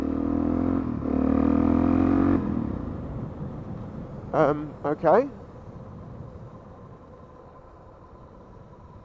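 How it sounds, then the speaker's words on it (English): A motorcycle engine rumbles loudly, then abruptly cuts out and fades, leaving a brief spoken word and faint background noise. "Why is the engine just cut out?"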